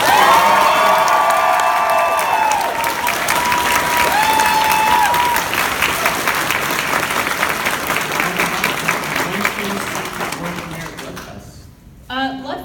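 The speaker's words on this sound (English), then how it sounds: "So can we give Barbara another round of applause?" A large audience at a comic fest panel for Barbara Dunkelman breaks into loud applause with cheering, sustained for around ten seconds before fading, voices mixed in.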